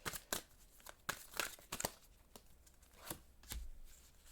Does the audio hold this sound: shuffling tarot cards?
yes